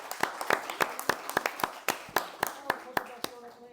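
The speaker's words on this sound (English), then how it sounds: "let's give a round of applause for Marco." Scattered claps from a small group, a dozen or so sharp hand claps spread unevenly over a few seconds, fairly close, with some chatter underneath.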